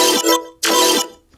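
Two short sustained synth notes made in Ableton, a bass synth layered with a brighter top synth, loud and close, each note holding briefly and then cutting off.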